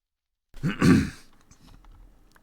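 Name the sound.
clearing throat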